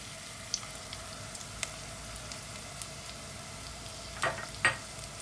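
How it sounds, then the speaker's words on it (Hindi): Tomato puree hitting sauteed onions in a pan gives a soft, steady low sizzle with a few light clicks and spatters, faint and close, with no talking. "अब हम इसमें ये टमाटो प्योरी भी डाल देंगे।"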